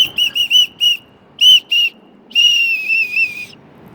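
A shrill whistle is blown close by in a string of sharp short blasts, then two more, then one long sustained blast, with no talking.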